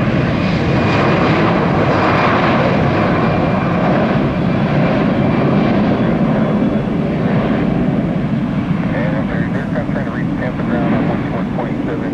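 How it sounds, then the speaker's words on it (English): An Airbus airliner taking off before dawn at Tampa airport gives a loud, continuous jet-engine roar that fills the whole stretch, close and steady, with no letup. "Well, looks like our Airbus. Ooh, look at those taillights, looking good. Been cleared for takeoff."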